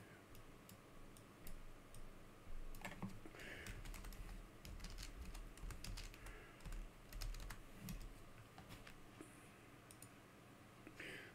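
A game title being typed on a computer keyboard into a game launcher's search field, with quick irregular key clicks in short bursts and pauses, close but quiet over a low background hum.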